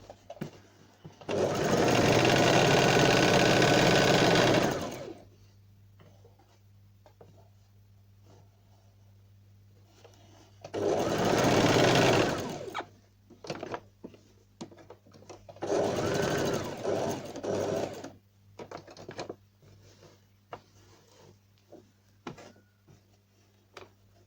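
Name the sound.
sewing machine stitching fabric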